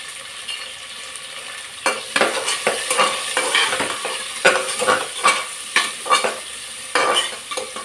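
Garlic, small sambar onions and large onions fry in a pot for kara kulambu, giving a steady close sizzle broken by irregular scraping stir strokes that grow busier partway through.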